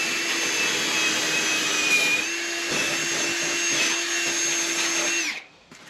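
An aerosol can of anti-rust spray hisses in one continuous steady burst onto a rusty bracket in a Nissan Silvia S12 interior, loud and close, then cuts off abruptly near the end.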